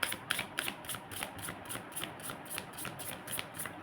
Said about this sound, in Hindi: this is my last shuffle